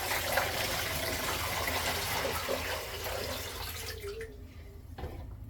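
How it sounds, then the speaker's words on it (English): Water pours steadily into a canner around jars of pumpkin, a continuous close gushing that thins and tapers off near the end. "I'm adding water."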